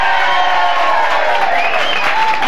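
A sellout crowd at a Southern Maryland country music night show cheers, whoops and applauds loudly and without pause, a dense close wall of clapping and shouting.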